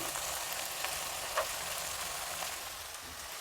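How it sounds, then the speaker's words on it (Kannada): Field beans frying in a pan, a steady hiss and sizzle that carries on without a break, with a faint clink or two, close and even, no voices. "ಈಗ ಕಾಳೆಲ್ಲ ಸಾಕಷ್ಟು ಫ್ರೈ ಆಗಿದೆ"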